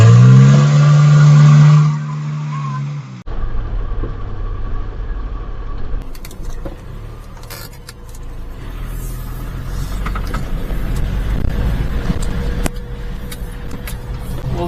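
A small mini truck drives in four-wheel drive over a summertime dirt and mud track, its engine a loud close rumble with rattling and bumping, preceded by a brief tonal sound at the start.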